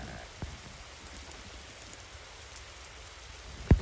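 Steady soft rainfall in the forest survival game 99 Nights in the Forest, a constant hiss of drops with a faint patter, and a sharp knock near the end.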